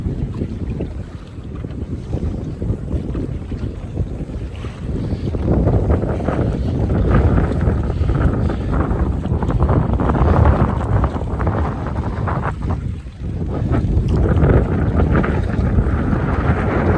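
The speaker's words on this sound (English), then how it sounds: "The wind really drives these waves." Strong wind roars across the microphone over the churning wash of ocean waves, a continuous loud rumble that surges and dips briefly before building again.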